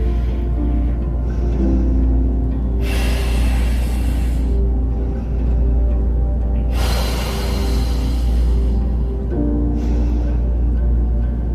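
Deep, long breathing during a yoga warrior flow stretch, with broad airy inhales and exhales swelling and fading in slow cycles over a steady low rumble.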